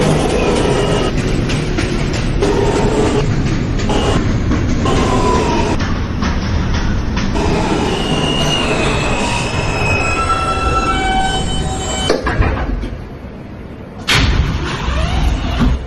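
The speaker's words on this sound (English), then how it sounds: "This is a Brooklyn-bound J local train." An NYC subway J local train runs along the track with a loud, continuous rumble and repeated high, drawn-out wheel squeals, with a brief bang near the end.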